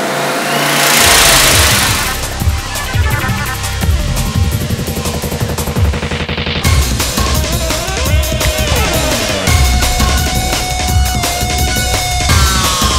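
A turbocharged small-block engine on a dyno revs hard and climbs in pitch, then holds a sustained, roaring high-rpm drone with rattling, mechanical overtones, close by.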